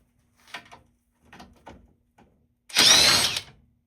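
On a 2016 Toyota Corolla, hand tools work the 10mm nut and bolt of the battery bracket, with a few faint metallic clicks and scrapes, then one loud short whirring burst near the end.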